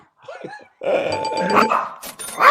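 A dog barks sharply a few times close by, mixed with a doorbell-like ding and other loud household noise.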